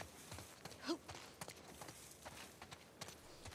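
Horse hooves clip-clop in The Last of Us Part II, a run of light, fairly quiet taps with a faint vocal sound briefly over them.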